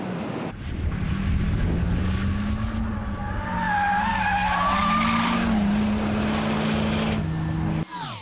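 Porsche Tiptronic driven hard, tyres squealing in long wavering skids over a loud engine roar and wind rush, sustained for several seconds before cutting off abruptly.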